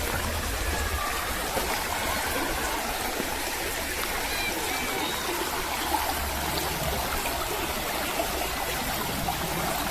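A river flows steadily through Rivelin Valley near the southern wall of an old dam, its broad rushing and trickling water sound continuous and fairly close throughout, with no voices over it.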